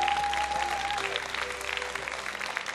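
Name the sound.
audience applauding the jury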